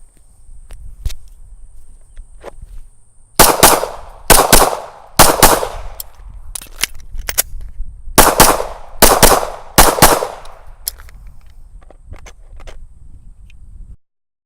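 Gunshots ring out at a shooting range during reload checks with the 2.0 pistol. Loud, close reports come in short strings, with pauses between groups for reloading and faint handling noises in the gaps.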